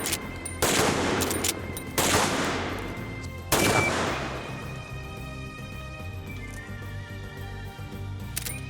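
Three loud, sharp 45-70 lever-action rifle shots ring out at irregular intervals outdoors, each with a long reverberant decay, the last followed by a faint trailing hum.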